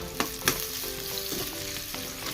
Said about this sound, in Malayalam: സവാള വാടിയിട്ട് നമുക്കിനി പച്ചമുളക് ഇട്ട് കൊടുക്കാം.